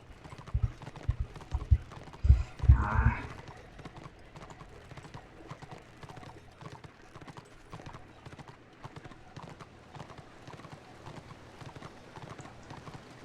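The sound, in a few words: horse hooves clip-clopping while riding in Return of Reckoning video game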